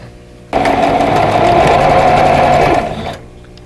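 A sewing machine runs in one steady burst of stitching for about two and a half seconds while joining quilt block pieces, then winds down and stops, loud and close with no talking.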